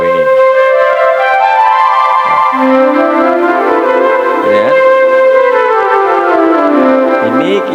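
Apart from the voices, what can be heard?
classic flute voice on electronic keyboard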